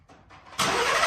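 A 2021-2024 Ford truck engine cranks briefly with a short starter whir, then catches and settles into a loud, steady idle close by, with no talk.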